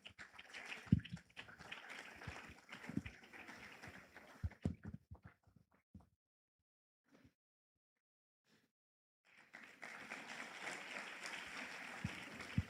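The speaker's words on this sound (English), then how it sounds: "A round of applause." An audience at a special lecture on artificial intelligence and smart agriculture applauds Ambassador Jeong, dense clapping that stops into near silence, then another long round of applause.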